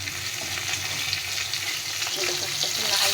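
Pieces of catla fish frying in oil in a pan, with a steady, close crackling sizzle throughout and faint scraping as the pieces are turned over.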